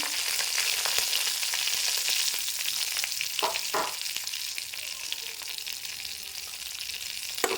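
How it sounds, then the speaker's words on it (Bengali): Dried red chillies and slit green chillies fry in hot oil as a tempering for a dhaba-style egg curry, making a steady, close crackling sizzle with a couple of brief utensil knocks midway. "শুকনো লঙ্কা দিয়ে দিলাম আর দেব কটা চেরা কাঁচা লঙ্কা দিলাম"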